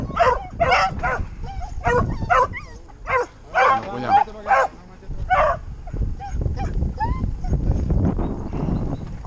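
Hunting dogs on a wild boar and rabbit hunt yip, whimper and bark in quick, excited bursts, close by and fairly loud, with rustling movement underneath.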